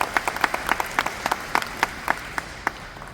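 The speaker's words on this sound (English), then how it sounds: "You can clap for that." An audience at a keynote address on maternal mortality claps in a sparse, uneven patter of distinct hand claps that thins out toward the end.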